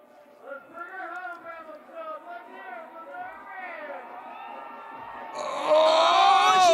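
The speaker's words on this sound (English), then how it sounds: "You can hear the crowd going nuts" Spectators at a backcountry snowboard event in Revelstoke, cheering and screaming at a distance under steady commentary, the roar swelling louder near the end.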